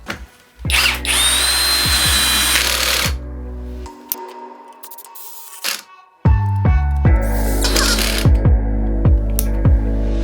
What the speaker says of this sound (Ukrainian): проведемо тест ходинку і перевіримо, наскільки добре відрегульована муфта крутного моменту